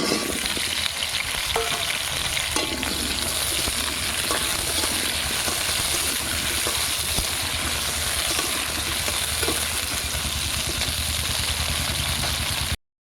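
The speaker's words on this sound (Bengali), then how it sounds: "আলুটা লাল লাল করে ভাজা হয়ে গেছে তুলে নেব" Continuous crackling sizzle of potatoes frying in oil, steady and close, with faint clinks now and then and no talking.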